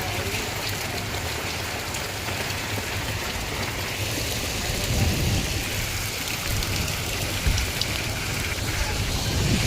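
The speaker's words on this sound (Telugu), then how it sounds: "ఓ మోస్తారుగా కురుస్తున్న వర్షం చూడవచ్చు" Moderate rain falls steadily over a street in Warangal city, a dense, even hiss with low rumbling, alone and without voices throughout.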